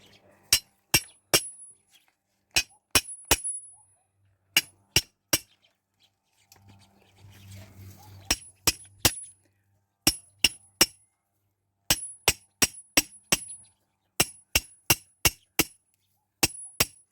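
A hammer drives homemade garden supports for hydrangeas into the ground in a village yard, sharp ringing metallic blows in quick bursts of two to four, with a pause and a low murmur midway.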